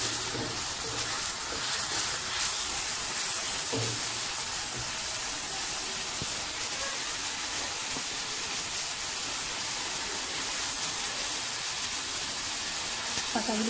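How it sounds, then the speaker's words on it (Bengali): Bottle gourd and spinach leaves frying in a pan, a steady, loud, hissing sizzle that fills the whole stretch with a few faint knocks underneath. "পাতাগুলো ভেজে দিচ্ছি।"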